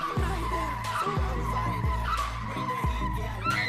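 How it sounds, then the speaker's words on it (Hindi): A car drifts in a scene from the film Pushpa, its tires skidding and squealing in repeated bursts over the engine's throaty rumble, loud and near. "पुष्पा भैया भी फर्स्ट टाइम गाड़ी चलाने लगे हैं और फर्स्ट टाइम में ड्रिफ्टिंग शुरू कर दी"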